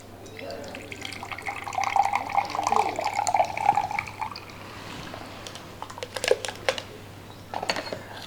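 Water poured into a grinder jar while preparing a vegetable drink, a steady splashing trickle that swells and fades over several seconds, with faint talk underneath.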